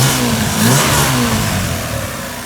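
A car engine on a stock exhaust revs up and settles, a loud, steady mid-pitched drone with a brief rise in pitch near the start, close by and with no voices.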